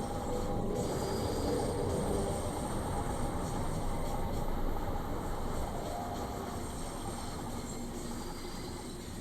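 A 1972 Stock Bakerloo Line Underground train in Train Sim World 4 runs through a tunnel toward Charing Cross, a steady, dense rumble of wheels and motor with faint rail clicks, unbroken throughout.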